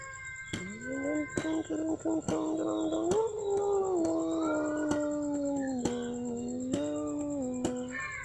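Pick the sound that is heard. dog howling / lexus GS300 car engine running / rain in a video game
dog howling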